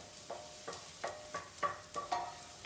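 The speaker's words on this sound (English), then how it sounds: "See the stirring." Onions stirred in a pan while cooking risotto, a steady rhythm of scraping strokes about three per second over a faint sizzle, close and moderately loud with no voices.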